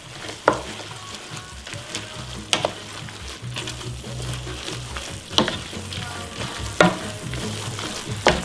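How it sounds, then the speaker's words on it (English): Egg being stirred quickly into zucchini noodles in a sizzling frying pan, a steady close frying crackle with sharp intermittent scrapes and taps of the utensil against the pan. "now I gotta stir it up fast before it just cooks in one spot"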